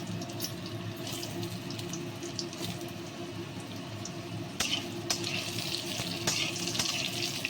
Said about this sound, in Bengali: এবার একসঙ্গে আলুগুলো ভেজেও নেবো ফোড়নটাও ভাজা হয়ে যাবে